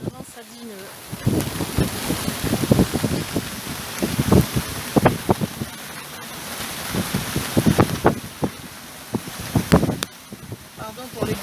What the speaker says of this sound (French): on prend quelques embruns ajoutés à la pluie